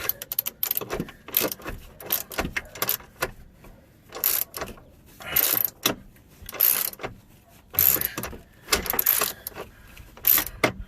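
A bolt is threaded in while a front bumper is fitted on a 1994–2001 second-generation Dodge Ram. Close, irregular bursts of metallic ratcheting and clicking come in short runs separated by pauses, with no talk.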